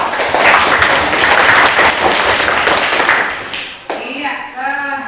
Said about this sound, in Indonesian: Ya, baik, kita kasih aplaus kelompok 2.